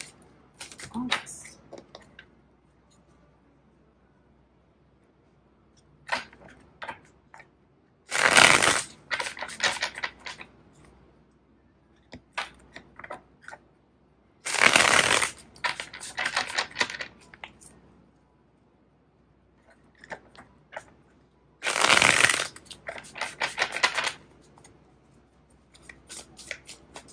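Tarot cards being shuffled in several quick bursts of riffling and snapping separated by quieter stretches of small handling clicks and taps, close up.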